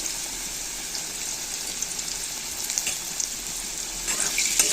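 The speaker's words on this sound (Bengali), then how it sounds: "ভেজে নেব আলুটাকে।" Cut potatoes frying in hot oil with salt and turmeric, a steady bright sizzle that runs throughout, with small crackles and stirring scrapes growing slightly louder toward the end.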